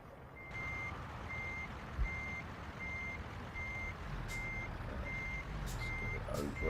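A truck's reversing alarm beeps in a steady, evenly spaced repeating pattern in American Truck Simulator, heard over a low idling engine rumble, with a few short hisses near the end.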